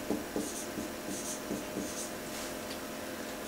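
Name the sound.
writing a word by hand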